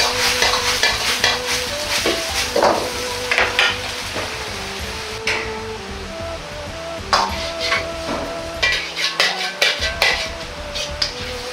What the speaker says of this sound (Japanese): とろみがついたら揚げた肉を入れてタレと合わせます